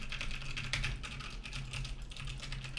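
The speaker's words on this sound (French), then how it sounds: "et voilà ce que ça donne avec le clavier et la souris." Rapid computer keyboard typing mixed with mouse clicks, steady and close throughout, picked up by a Synco Mic-D2 off-camera streaming microphone.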